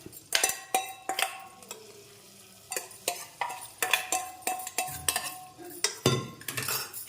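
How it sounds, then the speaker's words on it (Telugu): Hot tempering (popu) stirred into gongura chana dal in a pot, a steady run of close ladle scrapes and clinks against the vessel with a faint sizzle underneath. "ఇప్పుడు పోపు పెట్టేస్తాం. ఈ పప్పులో పోపు పెట్టేసుకుందాం."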